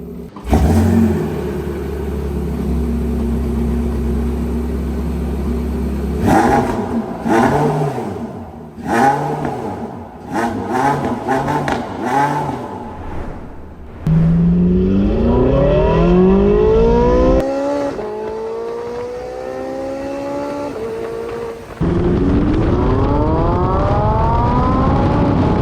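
Engine revving on a collector car, first a steady idle, then a series of sharp blips and revs, then rising whines as it accelerates through gears, loud and close.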